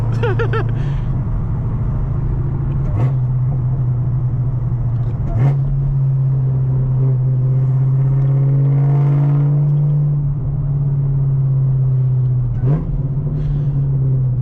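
A six-speed Chevrolet Camaro ZL1 engine drones steadily while driving at night with traction control off, the note rising and settling through shifts and throttle changes, loud and continuous from start to finish.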